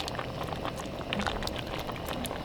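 Thai sour curry with shrimp boils steadily in a pot, a dense continuous bubbling and popping texture at moderate level throughout, with no voices.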